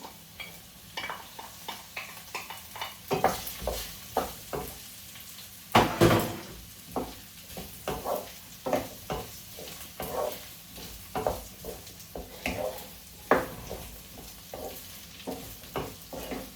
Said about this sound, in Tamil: உருளைக்கிழங்கை போட்டுட்டு இந்த கஜுவையும் நான் போட போகிறேன்